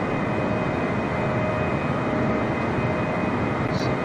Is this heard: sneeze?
no